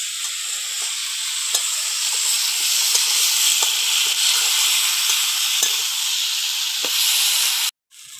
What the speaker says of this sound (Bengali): লবণ হলুদ দিয়ে সবজিটা একটু ভালো করে কষে নেব।